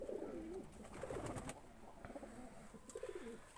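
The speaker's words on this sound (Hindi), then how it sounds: "माशाल्लाह कबूतर बाहर निकले हुए हैं।" Pigeons coo softly at close range, with several low, rolling coos in short bursts over a faint background hiss.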